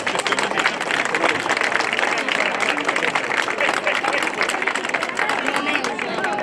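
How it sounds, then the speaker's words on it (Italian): Loud, dense applause from a crowd at an outdoor singing event in Sardinia, steady clapping throughout without a break. "Un applauso forte per il tenore Osana"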